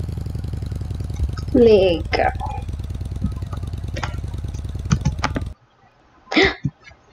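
A motorcycle engine in the Roblox game Horror Tycoon drones steadily under a talking voice, with electronic game sound effects, then cuts off abruptly before a final short burst.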